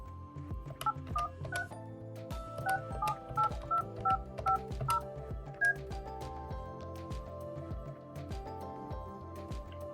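Telephone keypad tones from an office phone dialing a ten-digit number: a quick series of short, clear beeps of differing pitch, close and distinct, with brief gaps between presses and a low hum beneath.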